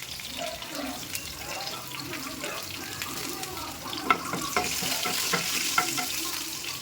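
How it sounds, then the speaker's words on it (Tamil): Garlic and fennel seeds frying in hot oil for a biryani base, a steady close sizzle with scattered sharp pops and crackles growing busier toward the end, no talking. "சோம்பு நல்லா பொரிஞ்சதுக்கப்புறம் பூண்டு சேர்த்துக்குவோம்."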